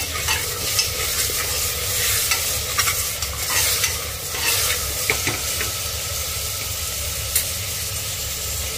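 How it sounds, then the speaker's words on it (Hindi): Spices and rock salt dry-roast in a pan with a steady sizzle, overlaid by repeated scraping and rattling strokes of a spoon stirring them, close and fairly loud. "अब इसे 1-2 मिनट के लिए इस तरह से भूनना है।"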